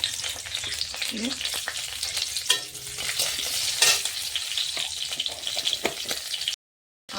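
Garlic and burnt dried chillies with five-spice (panch phoron) sizzling in hot oil, a steady close crackle with stirring scrapes throughout, cutting out briefly near the end.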